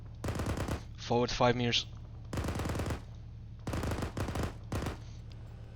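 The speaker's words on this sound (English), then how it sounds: "Alpha, continue firing southeast." Automatic machine-gun fire in the military shooter Arma 3, during a squad reconnaissance in heavily forested terrain: repeated sustained bursts roughly a second long, separated by short pauses, with radio-style voice commands between and over the shooting.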